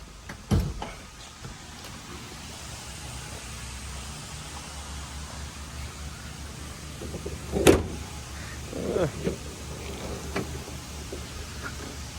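A few sharp latch clunks and pops from the hood and trunk of a 2006 Lincoln Town Car being opened, spaced several seconds apart over a quiet, low background rumble.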